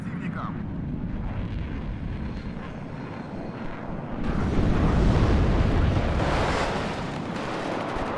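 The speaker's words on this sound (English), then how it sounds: "Here comes the bombing strike." Bombing strike rolling down a tree line in a Cold War mountain battle strategy game, heard as a broad, sustained roar of distant blasts and aircraft engine noise that swells loudly midway, with commentary running over it.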